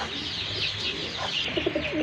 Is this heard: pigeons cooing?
yes